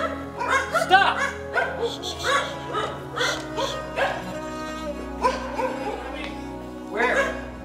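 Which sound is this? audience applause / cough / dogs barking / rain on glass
dogs barking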